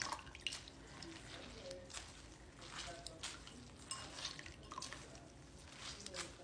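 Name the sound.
liquid dripping from a green loofah squash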